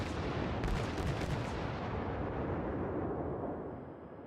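Heavy naval gunfire from a warship in World of Warships rolls out as a broad, sustained roar with a few sharp cracks near the start, fading slowly toward the end.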